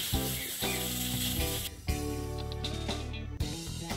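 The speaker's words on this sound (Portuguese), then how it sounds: "Vou cozinhar por 10 minutos na panela de pressão." A pressure cooker holding okra hisses steadily with a loud sizzle, and the tone and texture shift in several abrupt bursts.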